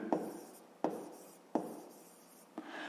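Pen strokes mark a fraction on paper during a fifth-grade maths exercise, four short scratchy taps spaced about a second apart, close and quiet with no talk.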